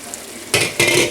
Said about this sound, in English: Spread this out a bit, turn this down, and let this simmer for 10 minutes